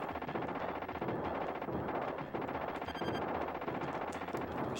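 Rapid machine-gun fire from T2: The Arcade Game on the SNES rattles continuously at a moderate level, a steady stream of shots mixed with game effects and no talking.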